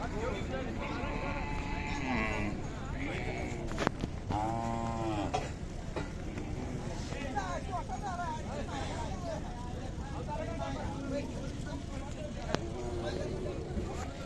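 Busy livestock market with Khillar cattle lowing amid a constant crowd hubbub and people talking nearby; occasional hoof clatter.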